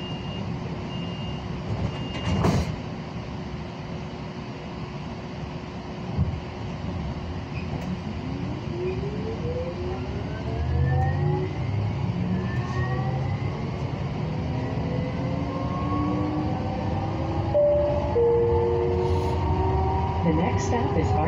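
A CATS LYNX Siemens S light rail train pulls out of a station, its traction motors whining and rising steadily in pitch as it speeds up, under rumbling and rolling noise, with a brief announcement voice early on.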